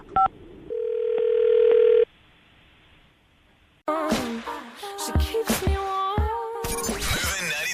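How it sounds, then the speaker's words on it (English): A telephone dial tone holds steady for over a second, then drops away before a burst of ringback and jingly radio-show stinger sounds takes over, all fairly loud with no talking. "I'm going to call her right now, see if we can get her on the phone"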